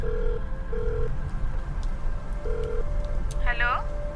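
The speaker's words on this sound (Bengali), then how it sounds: "সে ফোনটা বের করলো এবার, আর ফোন করলো তার অফিসের কলিগ পারমিতাকে।" Phone call ringing back in an audio story, a repeated two-tone ring sounding in short bursts over a low background hiss, with a brief rising electronic blip near the end.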